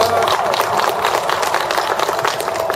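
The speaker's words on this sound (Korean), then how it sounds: "오늘 출연진과 함께 우리 선생님들께 큰 박수를 부탁드립니다." An audience at a poetry recitation concert applauds, with dense, steady clapping from a crowd filling the whole moment at a fairly loud level.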